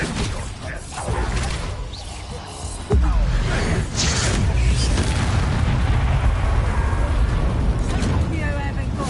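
A Confringo spell explosion in the video game Hogwarts Legacy bursts out as a loud, deep boom with a whooshing rush, then a sustained rumbling roar fills the rest of the scene under dense game effects.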